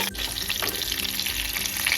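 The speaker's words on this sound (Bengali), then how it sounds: "মাছের একটা পাশ হালকা করে ভাজা হয়ে গেছে এবার অপর পাশে উল্টে দেব" Large koi fish frying in oil in a pan, a steady close crackling sizzle with a few louder spits, continuous and without talk.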